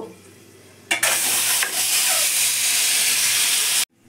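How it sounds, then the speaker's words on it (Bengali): Eggs for a Bengali egg curry hit hot oil in a pan and burst into a loud, steady sizzle that holds for about three seconds, then cuts off abruptly. "ডিমগুলো ভেজে নেব।"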